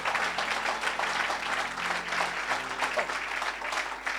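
A church audience applauds for Jesus with continuous, dense clapping from a large crowd, steady and fairly loud throughout.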